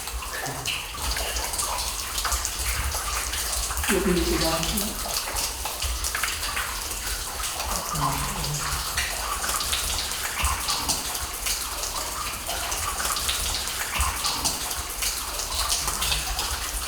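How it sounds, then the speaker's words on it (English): Water flowing and dripping inside a cave with streams running through it, a continuous rushing wash with scattered drips, steady and fairly close, with a couple of brief low tones partway through. "This place is dripping with water all over."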